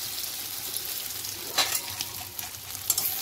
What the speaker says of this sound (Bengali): এবার ম্যারিনেট করা সয়াবিনগুলোকে আমি এবার অল্প অল্প করে ভেজে নেব।